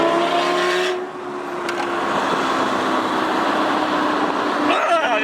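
Straight-piped Lamborghini Gallardo Superleggera being driven, a loud, steady engine roar from inside the car that dips briefly then holds at a constant high drone, with a faint voice in the background.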